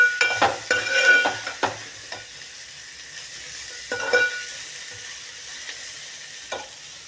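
Shredded cabbage stirred through hot oil in a pan, with a run of scraping spoon strokes over a soft, steady sizzle that eases into quieter frying with occasional knocks.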